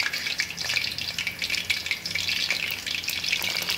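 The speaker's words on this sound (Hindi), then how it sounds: "कोफ्ते हमारे फ्राई हो रहे हैं" Chicken koftas frying in oil in a large kadhai, producing a loud, steady, close sizzle and crackle that fills the whole stretch with no talking.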